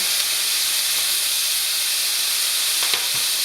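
Filet mignon sizzles in a pan with garlic-infused oil after being flipped, a steady loud hiss of frying that runs without a break, with a faint clink near the end.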